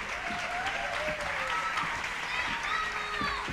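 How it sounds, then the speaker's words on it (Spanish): Dense audience applause fills a closing gala of the Alcine 52 film festival in Alcalá, steady and continuous with crowd noise and faint voices mixed in. "Un aplauso muy grande para Perro Nahuel"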